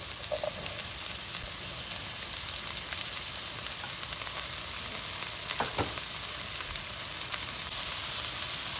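Onions and peas sizzle in a pan for millet brown rice noodles, a steady close frying hiss with a few faint stirring scrapes and no talk.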